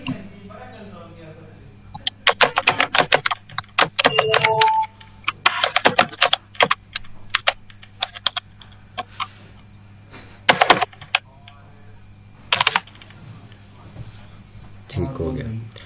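Bursts of rapid clicking from a computer keyboard as pseudocode is typed, loud and close, in irregular runs with pauses and a steady low hum underneath, with voices at points.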